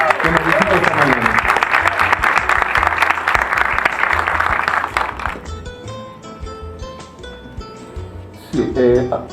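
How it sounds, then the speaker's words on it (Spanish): A church congregation on Easter Sunday applauds to welcome a guest pastor, dense loud clapping for about five seconds that then thins out under music, with a brief burst of voices near the end. "vamos a recibir con un aplauso al doctor Roberto Miranda"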